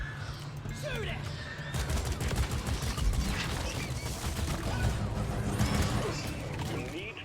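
Rapid gunfire in the sci-fi mining game Deep Rock Galactic comes in dense bursts of sharp cracks, with impact crashes and mechanical whooshes, loud and continuous, while a voice talks over it.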